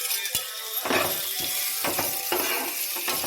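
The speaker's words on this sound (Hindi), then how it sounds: "अनियन को थोड़ा सौटे करेंगे" Onions sautéing in hot oil with cumin seeds in a pan, a steady close sizzle with crackling bursts and occasional stirring scrapes, no voices.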